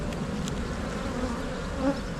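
Honeybees buzz in a continuous, close, even drone as a hive is opened for inspection.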